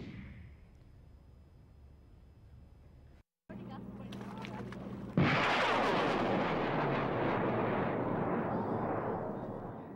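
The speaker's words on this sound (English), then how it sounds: "a high-powered Super Loki rocket blasts over Lake Michigan" A high-powered Super Loki rocket launches over Lake Michigan, heard as a sudden loud blast that cuts in and then holds as a sustained roaring rush after a brief gap in the background noise.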